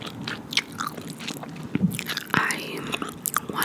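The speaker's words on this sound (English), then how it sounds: "And so I did mouth sounds while chewing gum." Gum chewing and wet mouth sounds, close and intimate in ASMR style, with soft clicks and smacks in an irregular rhythm and some faint breathy whispering.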